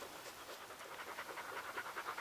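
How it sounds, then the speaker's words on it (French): Dogs pant steadily in the background at a bivouac campsite around sunset, a rapid breathy rhythm running continuously and fairly quiet throughout. "On est bien le petit bruit de fond des chiens."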